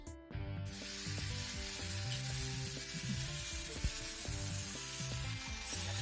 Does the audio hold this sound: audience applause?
no